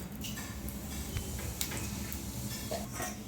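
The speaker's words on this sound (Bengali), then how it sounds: "দিয়ে দেবো সরষের তেল, দিয়ে দেবো পাঁচ ফোড়ন" Panch phoron spices sizzling in hot mustard oil in a pan for a Bengali thin fish curry, a steady close crackle with small ticking pops throughout and no talking.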